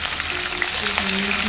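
Onions with green chillies, cumin, mustard seeds and whole garam masala spices sizzle steadily in hot oil, a close, continuous frying hiss with no talking.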